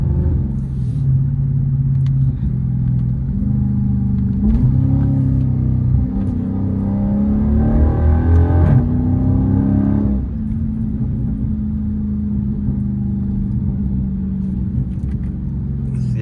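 A Dodge SRT's engine rumbles deep and steady from inside the cabin while cruising in Dallas, Texas, swelling through a couple of throttle changes before settling back to a low drone.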